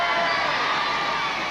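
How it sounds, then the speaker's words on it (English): An outdoor crowd at a 1981 It's a Knockout team games event between Dunfermline, Cumbernauld and Glenrothes gives a continuous wash of applause and cheering, loud and dense, mixed with indistinct shouting. "Can I have some nice round of applause for them, please?"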